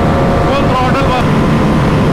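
A Bajaj Pulsar NS400Z and a KTM RC390 race at full throttle. A rising engine whine sits under heavy, constant wind roar, close and loud.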